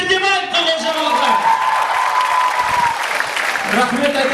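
Applause from a concert audience at a traditional music performance, a dense wash of clapping and crowd noise held steady for several seconds, with a sustained sung or spoken tone running over it.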